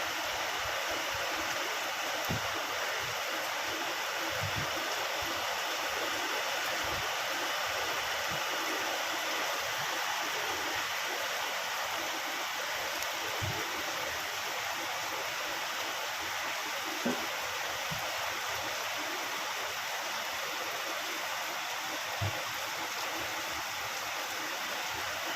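Water running steadily into a tub to bathe dolls, a constant broadband hiss and splash at even volume throughout, with occasional faint knocks underneath.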